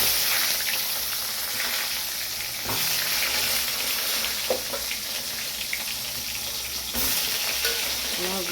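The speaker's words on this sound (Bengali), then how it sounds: "পটলের জন্য জিরে, তেজপাতা, শুকনো লঙ্কা ফোড়ন দিলাম।" Pointed gourd frying in plenty of oil after a tempering of cumin, bay leaf and dry chilli, a steady close sizzle throughout with brief stirring scrapes and a couple of louder bursts.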